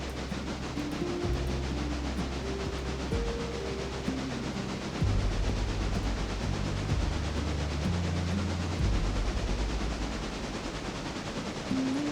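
A coal-fired steam locomotive in a railroading video game rolls along the rails with a steady, dense rumble and hiss, joined by low droning tones that shift pitch, continuous and fairly loud with no talk.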